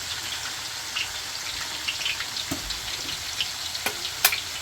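Eggs sizzle and fry steadily in a hot pan, a continuous crackling hiss broken by a few sharp scrape-like clicks as they are stirred, with no talking.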